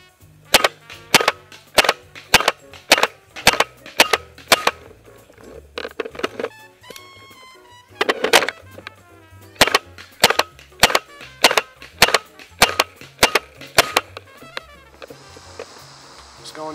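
Tippmann TiPX mag-fed paintball pistol fires a long string of sharp, evenly spaced shots, close and loud, with a short pause midway before the steady popping resumes.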